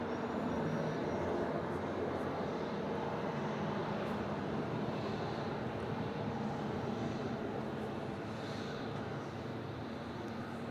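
A Velocity airliner takes off from Melbourne Airport, its broad engine roar steady and moderately distant, rumbling on for the full stretch with no voices.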